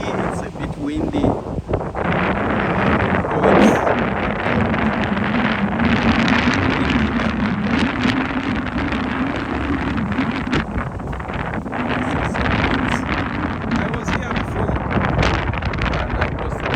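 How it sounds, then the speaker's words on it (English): Strong wind buffets the microphone in a steady, loud rumble throughout at a Caribbean cruise port, near a huge Royal Caribbean Celebrity Beyond cruise ship, with people talking over it. "It's windy. It's a bit windy."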